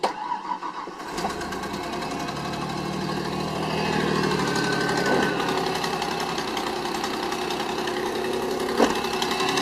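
A 1994 Mazda B3000 pickup truck's engine, just fitted with a new ignition coil, turns over and keeps running at a steady, fairly loud idle nearby, with a faint click or two over the hum.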